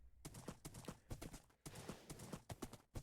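Horse hooves clip-clop quickly and steadily in a video game as the mount gallops at speed, a dense run of sharp rhythmic hoofbeats heard close and alone.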